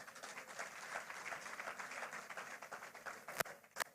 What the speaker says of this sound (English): please, a round of applause for yourselves.